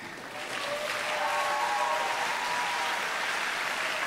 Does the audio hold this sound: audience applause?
yes